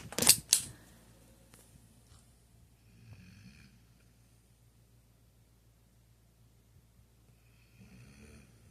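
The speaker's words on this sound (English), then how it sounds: "She's snoring." Soft, slow snoring breaths from a dog, quiet and close, with a couple of sharp clicks at the start and long near-silent pauses between breaths.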